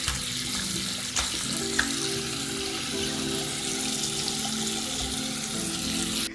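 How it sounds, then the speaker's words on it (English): Dirty water draining down a bathroom sink drain, a continuous close gurgling and trickling rush with small clicks, no voices. "just empty out all the dirty water that I was using, and it is so satisfying seeing the dirty water just draining down the drain"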